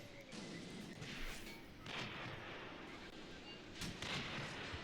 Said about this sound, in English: Enemy tank already getting hit with a few shots from Galats.